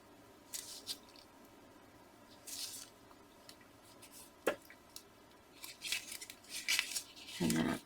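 Thin tape being pulled and pressed along the bottom of a one-page photo slip layout, heard as short crinkly tearing and rustling bursts spread across the quiet.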